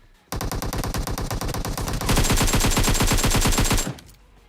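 Enemy gunfire in PUBG Mobile: a long, rapid automatic burst of evenly spaced shots lasting nearly four seconds. It grows louder and heavier partway through, then cuts off sharply.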